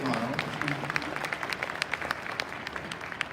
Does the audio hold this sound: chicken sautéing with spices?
no